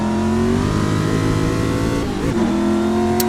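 A Ford GT40 race car on the Brands Hatch circuit holds a steady, loud engine drone that climbs in pitch through the gears, dips briefly on a shift, then rises and keeps pulling close and alone.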